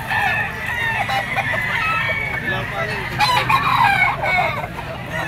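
Clucking and crowing from gamefowl, including a white-legged pumpkin Sota Peacock stag rooster, at a crowded market, fairly near and loud over a steady background din.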